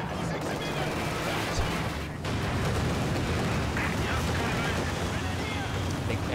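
An artillery barrage in the strategy game Company of Heroes 2 rumbles as a dense, continuous wash of booming explosions and roaring noise, with a commentator talking over it.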